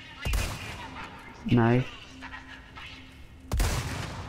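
Gunfire in the video game Resident Evil 4 Remake: two sharp, loud shots spaced a few seconds apart, with a voice speaking briefly in between over faint game ambience.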